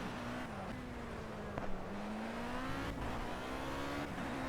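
Formula C race car engine in the Project CARS video game at a Monaco-style street circuit, a steady high-pitched whine rising gradually as the car accelerates, with brief dips at gear shifts.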